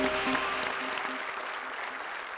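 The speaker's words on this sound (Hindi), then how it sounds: "तालियों के साथ एक बार इनका अभिनंदन हो जाए" A game-show studio audience bursts into dense, full applause that slowly tapers off, with a faint tonal sting sounding briefly at the start.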